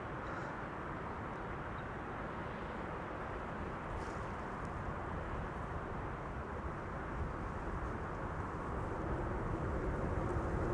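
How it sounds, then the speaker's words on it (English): A landing airliner at Amsterdam Schiphol applies thrust reversers, a broad distant roar of rumbling engine noise that holds steady and swells slightly toward the end, heard from afar without voices. "Reversers being applied."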